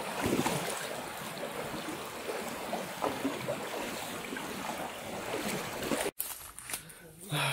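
Small boat crossing a river in the upper Koh area of Kelantan, a broad steady wash of engine and rushing water with wind, fairly loud, dropping out briefly near the end.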